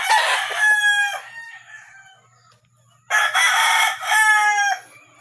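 Chickens and a rooster on a Cavite farm: two loud, close rooster crows, one at the start and another after a short quiet gap, with faint clucking between them.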